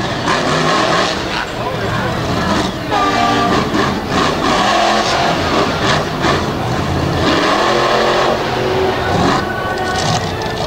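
An off-road race truck at the 2022 Thunder in the Valley event drives around a big obstacle, its engine loud and close, revving and surging in waves, with a voice talking over it.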